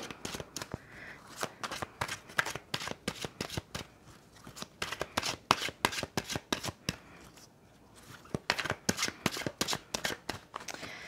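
Tarot cards shuffled by hand, a rapid run of crisp riffling snaps and slaps in bursts with a brief pause midway, close and fairly quiet, no talk.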